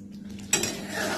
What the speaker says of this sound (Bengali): ব্যাস এইভাবে নাড়িয়ে দিন।